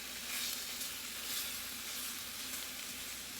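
Chicken fajitas with peppers and onions sizzle in a pan, a soft, even hiss that holds throughout with faint stirring underneath.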